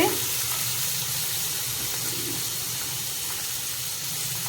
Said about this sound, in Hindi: बुट डाली को आपण मैंने टिके फ्राए करदे।